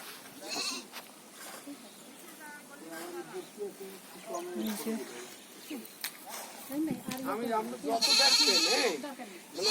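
Goats bleat several times at moderate distance, mixed with people talking nearby; a louder, harsher bleat stands out toward the end.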